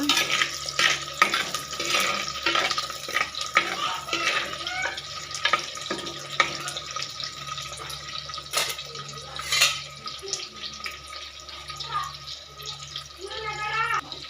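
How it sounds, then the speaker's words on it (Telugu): Onions, green chillies and curry leaves fry for fish curry with a steady, loud sizzle and crackle, joined by clinks of utensils against the pan. "దీంట్లో ఇప్పుడు కట్ చేసి పెట్టుకున్న ఆనియన్స్ పచ్చిమిర్చి కరివేపాకు అయితే వేసుకోవాలి. ఇది కొంచెం వేగాక"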